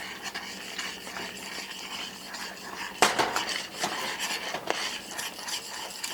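A spoon stirs darkening caramel in a pan for a dark chocolate salted caramel tart, giving a steady soft scraping and rubbing with a sharper clatter partway through, close up and with no talking.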